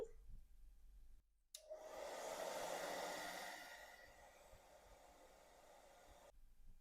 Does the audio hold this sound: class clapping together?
no